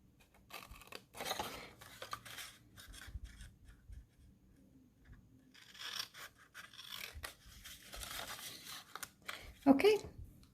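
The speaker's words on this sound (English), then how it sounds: "So we're just going to cut straight across that score line." Scissors snip and rasp straight across a scored paper line while making a kid-friendly treat pouch, a series of close, quiet cutting strokes with pauses between them.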